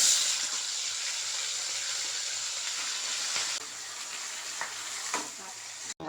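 Marinated meat sizzles steadily in hot oil spiced with garam masala and a bay leaf, a dense, close frying hiss with occasional scraping stirs.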